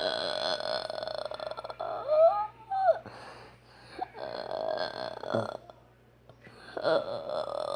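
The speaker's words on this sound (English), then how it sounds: "I will burp on my brother." A child lets out a drawn-out, voiced burp close by, with some talking in the background.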